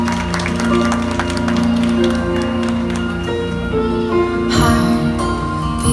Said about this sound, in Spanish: Luis y Ashley, con ese fuerte aplauso.